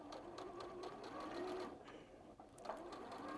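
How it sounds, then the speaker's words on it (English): A sewing machine stitches fabric squares one after another, its motor humming in a steady, continuous close whir with a fast needle rhythm throughout. "You just sew straight off the edge and you place another one in."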